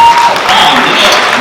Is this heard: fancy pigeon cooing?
no